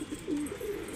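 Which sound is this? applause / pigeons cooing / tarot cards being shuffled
pigeons cooing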